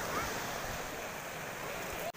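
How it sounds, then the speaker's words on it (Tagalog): Gentle ocean waves wash onto a sandy beach in a steady, soft surf roar mixed with light wind noise, heard continuously at low volume. "Tumahalik sa buhangin ang mga alon"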